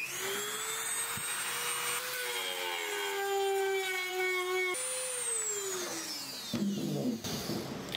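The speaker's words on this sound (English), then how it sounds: "So what we're gonna do is just grind that weld down a little bit right there." A power tool grinds down a weld inside a Honda XR250 dirt bike exhaust tube, a loud sustained whine that rises and falls in pitch as the load changes, with brief interruptions and a rougher scraping near the end.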